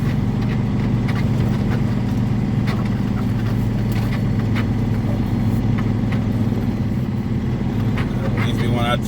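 A big truck's engine runs steadily while it is maneuvered into a parking spot in the cold, a constant low diesel rumble close by, with a voice talking over it.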